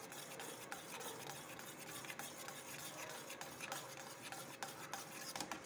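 Pudding mixture with vanilla essence is stirred steadily in a pot, giving a continuous scraping, swishing rhythm with no talking.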